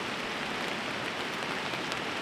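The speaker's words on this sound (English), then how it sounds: "looks like it's heavier than it was before" Heavy rain pours onto a hot tent pitched by a rushing river, a dense, steady hiss with scattered sharper drop impacts, alone and with no voices.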